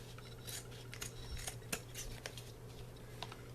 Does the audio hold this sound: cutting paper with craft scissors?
yes